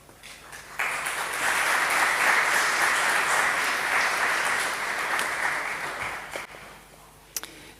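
An audience claps after a speech at a memorial lecture, a dense, even wash of applause that swells quickly, holds steady for several seconds, then thins out, with no one talking over it.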